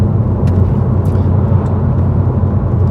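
An Audi TT engine runs smoothly with no misfire, a steady, close, continuous low rumble that holds even throughout with no stumbles or gaps.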